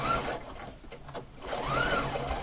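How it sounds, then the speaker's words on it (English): A sewing machine stitches fabric with piping, running in two steady bursts separated by a brief slowdown, moderately quiet and close. "I'm going to keep on sewing until it gets to the end"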